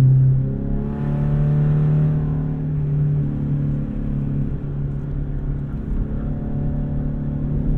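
A Toyota Camry with a leaking exhaust drives on the road. Its engine drones and rumbles loudly from inside the car, pitch climbing and then dropping as it shifts up, with a raspy exhaust note.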